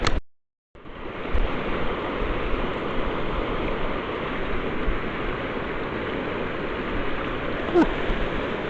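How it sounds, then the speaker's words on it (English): The fast-flowing Snake River in Idaho rushes past close by in a loud, unbroken roar that sets in after a short pause at the start and holds steady to the end. "The water is going so fast."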